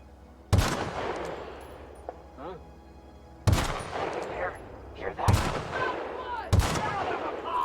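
Gunfire in The Outer Worlds during a fight with marauder bandits: four loud, sharp shots spaced irregularly across the stretch, each with a booming low thump and a ringing tail, under faint game ambience.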